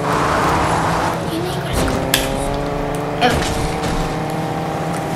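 A car engine drones steadily in the Fortnite video game, a continuous loud motor hum with a few sharp clicks or bumps, heard alone for several seconds.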